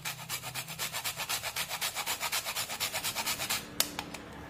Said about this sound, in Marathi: त्यानंतर थोडीशी जायफळ किसून घालूया।